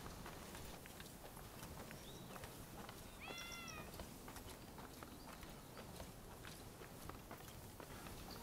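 In the video game Rise of the Ronin, a cat gives a short meow midway through, faint under the steady game ambience and the soft patter of footsteps.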